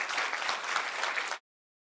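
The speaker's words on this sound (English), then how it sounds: "Let's all give one big final round of applause for our debaters." Audience applause for debaters at the close of a debate, a brief burst of dense clapping that cuts off abruptly.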